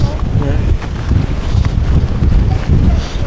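Strong wind buffets the microphone on the coast at Muxia and Fisterra, a continuous loud roaring rumble with gusty rustling and no pauses.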